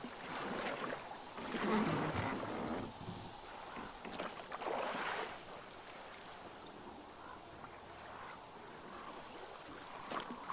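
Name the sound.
rowing a small boat in Metro Exodus video game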